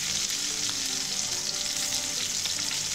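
A large onion cut into long slices frying in a pan for potato sagu, a steady loud hiss of sizzling oil with faint stirring scrapes throughout.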